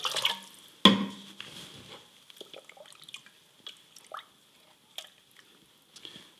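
Water poured into a pot for fish soup, a splash followed by scattered drips and small trickles, close and fairly quiet with no talking.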